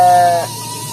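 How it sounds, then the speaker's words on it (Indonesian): A single sheep bleats loudly and close in a farm pen beside a remote garden house, one sustained call fading into a steady background hum. "Ada sebelah sana mah kandang domba sahabat."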